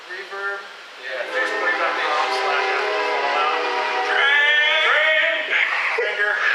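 A train rolls through nearby, its horn sounding in long, sustained blasts that fill most of the clip at fairly loud level, with the rumble of the passing cars underneath.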